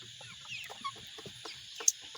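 Faint, scattered clucks from two-month-old broiler chickens of about 2.5 kg sound over a constant high hum, soft and intermittent, with one sharper peep near the end.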